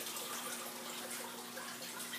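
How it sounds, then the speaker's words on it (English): Steady running water during a water change on a 90-gallon freshwater aquarium, a continuous even hiss that holds level throughout with no voices. "Working on the water change."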